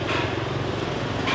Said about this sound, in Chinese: 摩托車、行人、遊客啊，時不時的還能有一部4輪車子從你的身邊經過，